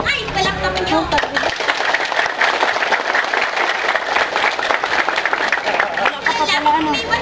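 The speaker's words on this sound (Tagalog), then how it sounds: "hiling ay palakpakan nyo." Sustained audience applause with crowd noise throughout at a Filipino-language school event, broad steady clapping from many hands with voices mixed in.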